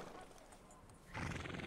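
A horse whinnies loudly in the video game Red Dead, a sudden bright neigh bursting out at the end over a busy background of game sound.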